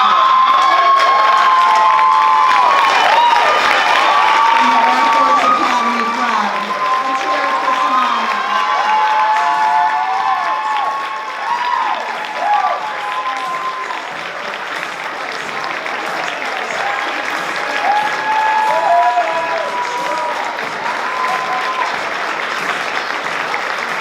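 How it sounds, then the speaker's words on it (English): A large audience at a 2023 Youth of the Year award ceremony greets the winner with sustained, loud applause, cheering, whoops and shouting children, a dense crowd roar lasting throughout. "Another round of applause for all of our competitors tonight"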